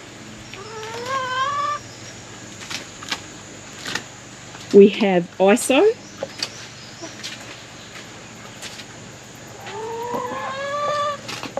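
Chickens in a tropical coop cluck and squawk in short bursts, with a louder cluster of calls midway and warbling cries at the start and end, while a person talks nearby.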